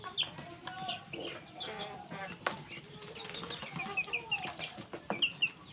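Fayoumi chickens cluck and chirp busily while being fed in the afternoon, with a few wing flaps, the calls rising in short bursts toward the end.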